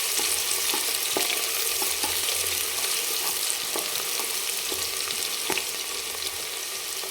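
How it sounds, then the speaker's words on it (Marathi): Onions fry in hot oil, turning golden, with a steady close sizzle and crackle throughout and occasional light stirring clicks. "तेल छान गरम झालं आहे कांदा टाकून घेऊ आपण आणि कांदा चांगला सोनेरी कलरवर परतून घ्यायचा आहे"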